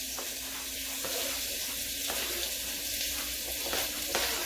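Onions hitting ground beef in a touch of olive oil give a steady, close, broadband sizzle with a watery hiss throughout and faint clinks, no voices.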